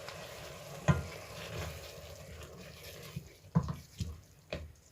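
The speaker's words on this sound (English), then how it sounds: "So just give it a good stir" Crayfish and tomato are stirred in a pot for egusi soup, a soft low simmering sizzle with a few distinct scraping knocks of the spoon against the pot, quiet and close, without talking.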